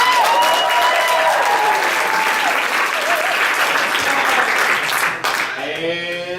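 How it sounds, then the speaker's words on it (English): A stand-up comedy audience applauds a comedian with loud, sustained clapping and cheering, while voices rise over it near the end. "give Cameron a round of applause"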